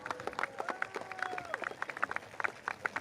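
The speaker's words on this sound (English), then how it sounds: "Can we have another round of applause for the speakers that came up on stage just now?" Sparse, uneven clapping from a small crowd at a Progress Singapore Party election rally for Marymount SMC, with a voice talking over the claps.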